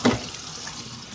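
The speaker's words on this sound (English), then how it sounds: "Put some water in here" Tap water runs steadily into a kitchen sink while fish is being cleaned for steaming, with a strong splash at the start settling into an even, close rush.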